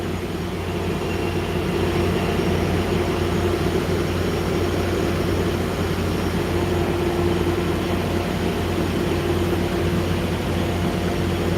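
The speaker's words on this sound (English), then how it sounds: "So I believe this is the first train of the afternoon." A loud, steady rumble of an arriving Sounder commuter train with a continuous low drone and rattling wheels, holding constant for the whole stretch.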